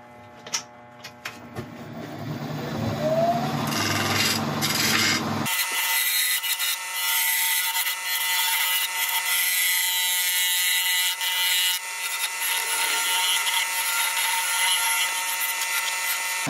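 A woodturning tool runs along a spinning piece of wood on a lathe, cutting a taper in a steady, bright scraping whir that continues for many seconds, close and fairly loud, preceded by a few knocks and handling sounds.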